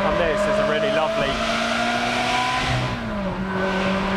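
A Ferrari sports car engine accelerating on a winding road, a loud, continuous rising and shifting roar with changing pitch as it revs through corners, heard from inside the car with a person speaking over it.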